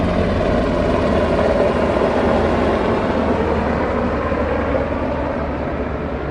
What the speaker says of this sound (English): Is that a helicopter we hear? It sure is.